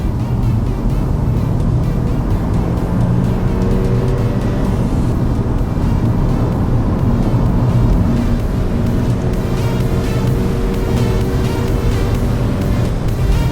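A Honda Civic with a CVT gearbox accelerates toward 100 km/h through traffic in an industrial zone, its engine a steady, loud drone with road and wind noise throughout.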